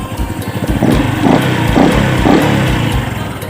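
A motorcycle engine idles and revs with its air filter cover taken off, a loud, close, throbbing mid-pitched drone that swells in a few rhythmic pulses before settling back.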